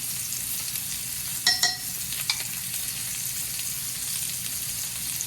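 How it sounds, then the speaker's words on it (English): Pork chops brown in a pan with a steady, close sizzle and frying crackle throughout, broken by a couple of brief clinks or spoon scrapes midway. "we'll repeat that process when we're done browning the other 2 pork chops here"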